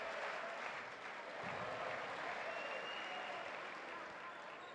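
Argentinian fans at a FIBA World Cup qualifying basketball game against Uruguay applaud and cheer in a sustained roar that fills the arena, with a commentator's voice running over it.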